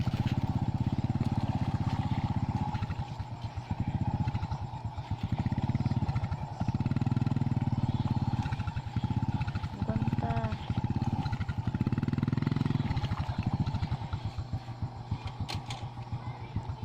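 A motorcycle engine chugs steadily close by on a very muddy road, revving and dipping unevenly as if struggling over rough ground, with a brief spoken word partway through.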